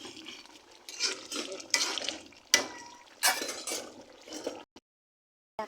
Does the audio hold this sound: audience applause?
no